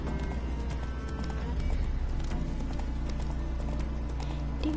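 Horse hooves clip-clop at a steady gallop in Witcher 3, close and continuous over a low game soundtrack, with a brief voice urging the horse on.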